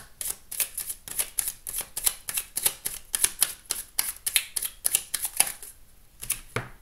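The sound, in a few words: cutting a deck of cards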